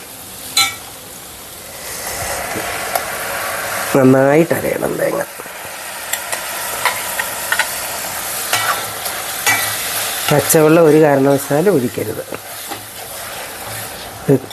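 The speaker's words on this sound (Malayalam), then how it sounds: "ഇതിനകത്തേക്ക് നമുക്കിനി അരച്ച് വെച്ചിരുന്ന അരപ്പ് അങ്ങോട്ട് ഒഴിച്ചു കൊടുക്കാം" Ground coconut paste is stirred into cucumber cooking in a pan, giving a loud steady sizzle with scraping stir strokes while someone talks over it.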